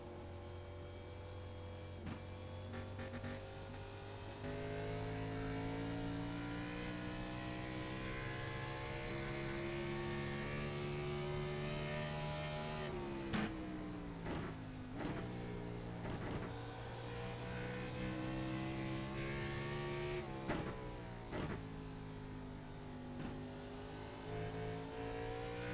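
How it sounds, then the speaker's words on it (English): Race car lapping Watkins Glen in iRacing on older tires, a loud engine drone rising in pitch through the gears, with sharp downshift blips and revs around corners and no talk. "let you listen to how Hyneman's getting around the track right now on older tires"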